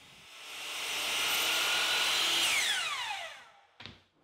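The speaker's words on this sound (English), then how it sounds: "set up a stop block on the miter saw and cut everything to length" Miter saw cutting a wood part to length, the motor whining up, roaring through the cut, then spinning down with a falling pitch, followed by a short knock, close and with no talk.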